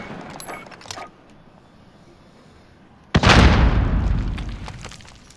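A spawn tube in Modern Warfare slams down with a sudden loud boom, followed by a few seconds of rumbling, hissing debris that slowly fades, after faint game noise.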